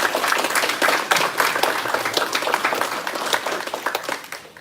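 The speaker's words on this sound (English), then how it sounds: "can we give everybody a massive round of applause?" An audience claps for panellists at a community panel event, a dense, steady round of applause running throughout and thinning out at the very end.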